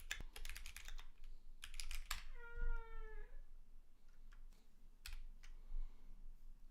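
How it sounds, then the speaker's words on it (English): A cat meows in a rising, drawn-out complaint once, set against rapid computer keyboard typing and clicks that come before and after it. "The kitty is definitely complaining."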